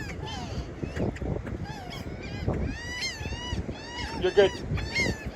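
Geese honk repeatedly while being chased outdoors, a scatter of loud, close calls over scuffling and rumbling, with people talking throughout.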